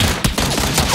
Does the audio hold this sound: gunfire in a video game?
yes